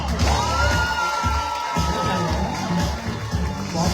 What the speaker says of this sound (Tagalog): pwede kayong pumalakpak para sa kanya